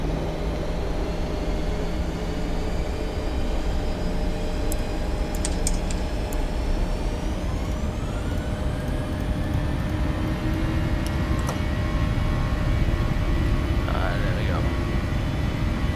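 Airliner jet engines spooling up for takeoff in a flight simulator on a Malta to Rome flight: a steady, loud engine drone whose whine climbs in pitch partway through and then holds, continuous throughout.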